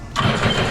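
The engine of a Sea-Doo RXT 260 personal watercraft catches and starts, a loud close burst of broadband engine roar that begins suddenly and holds steady over a brief moment.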